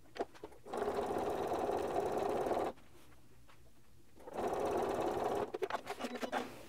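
Sewing machine stitching straight quilting lines along a ruler, running in a steady fast close hum for a couple of seconds, pausing, then running again and slowing into separate stitch pulses at the end.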